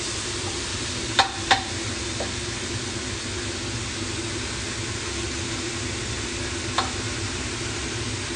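Pork mince frying in a pan for mapo tofu, a steady broadband sizzle running throughout with a few brief sharp clicks or spatters, close and moderately loud with no talk.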